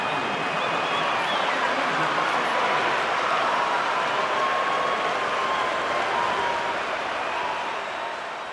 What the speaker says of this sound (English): The Leafs cheering on their player as he goes toe-to-toe in this fight.